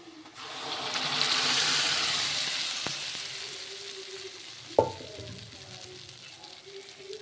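Spices tempering in hot oil for amaranth dal burst into a loud sizzle that swells and slowly fades, with a sharp clack from a utensil partway through and quieter frying afterward.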